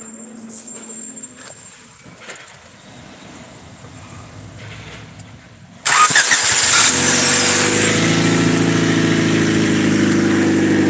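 A worn, battered car sits quietly with faint background noise, then its engine cranks and catches about halfway through, settling into a loud, steady idle close by.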